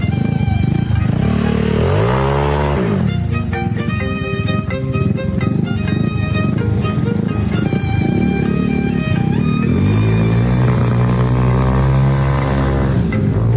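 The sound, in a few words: motorcycle engine running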